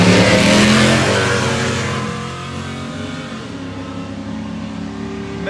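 Two Trophy-class 4400 off-road race cars rev loudly at the start line of a desert off-road race, engines roaring high and hard at first, then settling into a steadier, slightly quieter drone as they pull away.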